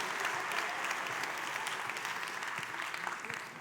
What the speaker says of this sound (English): Give these men and women an enormous round of applause